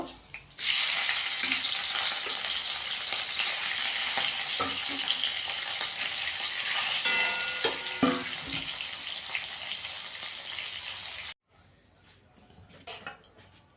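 Rohu fish pieces sizzle and crackle in hot oil, a loud continuous frying hiss with occasional clinks of a spatula against the pan, cutting off abruptly near the end to quieter clatter.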